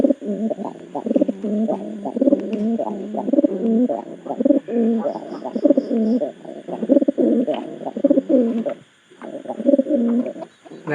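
Domestic pigeons, including a newly brought pair that is pairing up, coo in a loft after vaccination, giving loud, close, rhythmic, throaty coos that repeat almost without pause.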